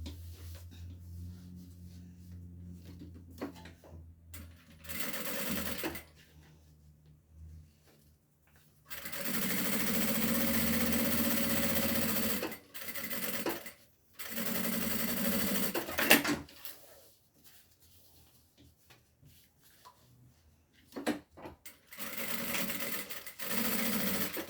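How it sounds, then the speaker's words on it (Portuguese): A sewing machine stitches a seam beside a zipper in bursts: short runs, then a long steady whir of about four seconds, then several more runs with quiet pauses between them and no talk. "eu vou deixar aqui afastado um dedo e vou costurar aqui, ó"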